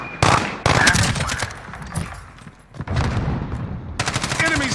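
Automatic AK-47 fire in Call of Duty: Modern Warfare, with loud, close bursts of rapid shots broken by brief pauses and ending in one more sustained burst.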